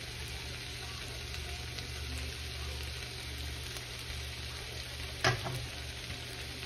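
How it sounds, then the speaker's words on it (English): Garlic dropped into hot oil gives a steady, close sizzling hiss that runs throughout, with a brief clatter partway through and no voices. "I'm gonna add the garlic."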